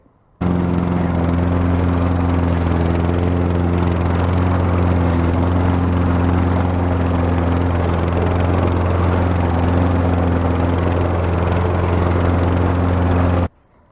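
A 195cc Tecumseh engine on a brush mower runs steadily at close range, a loud, constant droning hum with a deep low rumble that holds unchanged from start to finish with no talking.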